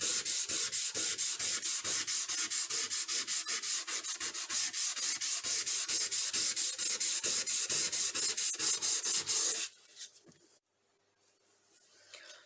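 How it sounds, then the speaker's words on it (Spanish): Steady, rhythmic scratching of sandpaper rubbed back and forth over wood, close and continuous, then stopping abruptly near the end. "Continúa lijando por algunos minutos más."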